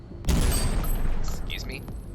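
One heavy gunshot from a gun in the shooter game Synthetik, a loud booming blast that rings out and decays over about two seconds, with faint electronic chirps trailing after it.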